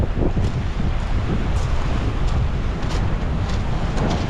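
Strong wind roars steadily across the microphone at Lakes Entrance Main Beach, a loud continuous rushing with faint surf underneath.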